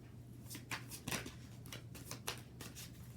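Soft riffling snaps of tarot cards being shuffled, several quick bursts in an uneven rhythm, close but quiet over a faint low hum.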